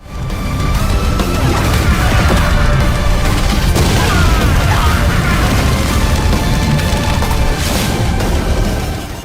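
A massive, sustained explosion effect for an animated fantasy battle between powerful sorcerers, rumbling and crashing continuously for about nine seconds with dense booming bursts and no pause.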